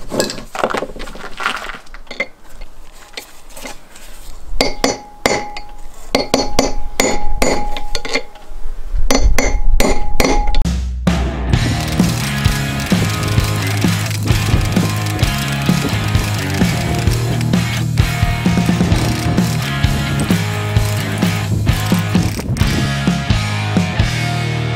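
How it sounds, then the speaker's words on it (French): A hammer and a mallet knock out the bearing races of an axle. Rapid, loud metallic strikes ring out, first sparse and sharp, then in a dense, continuous clanging. "Je vais le faire à l'ancienne, marteau, maillet, je vais essayer d'y aller doucement."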